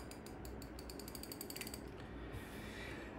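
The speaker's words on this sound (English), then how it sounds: "So let's just give this drag a quick little test out." A fishing reel with an upgraded Carbontex drag washer system clicks as line is pulled out, giving a fast, even ratcheting of crisp close clicks that speeds into a rapid buzz and then fades to a quieter whir.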